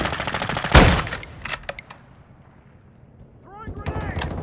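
Gunfire in a Call of Duty Modern Warfare II multiplayer match cracks out in loud bursts of sharp shots, then thins to scattered reports. Distant chirping effects rise near the end.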